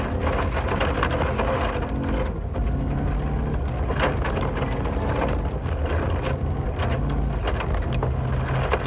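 Heavy, steady rain at near-freezing temperatures roars and hisses continuously during a rally in Southland, with a low rumbling undertone like engines or distant thunder.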